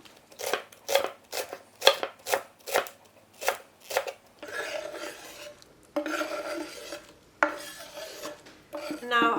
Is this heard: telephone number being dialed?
no